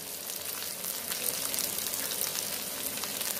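Cumin seeds, onion and carrot frying in oil for egg fried rice, a steady close broadband sizzle with faint crackles and stirring, no voices.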